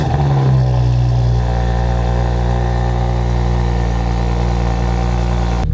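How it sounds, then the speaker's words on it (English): Audi S4 B9 with a new downpipe, running after a cold start: a loud, steady, low idle drone that holds its pitch throughout after a brief higher tone at the start, with no voices. "We're gonna get a cold start, then we're gonna go for a rip"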